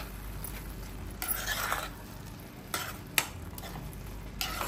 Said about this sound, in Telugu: అంత ఒకసారి కలుపుకుందాం.